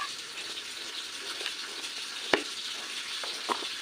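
Squash pieces sautéing in a pan on a stove, a steady soft sizzle and crackle running throughout with a couple of sharper clinks or pops, close and moderately quiet.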